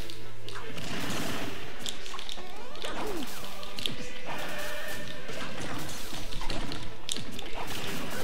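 Duck Hunt fights in Super Smash Bros on Wii U, a busy stream of hits, smashes, thuds and game effects layered with music, loud and continuous, with faint voices underneath.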